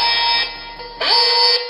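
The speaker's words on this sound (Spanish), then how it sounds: "en cuanto el Motion Can detecte movimiento, la alarma va a saltar" An Ajax home security alarm siren set off by a motion detector, loud and close, a piercing electronic tone that drops briefly and then comes back with a rising sweep.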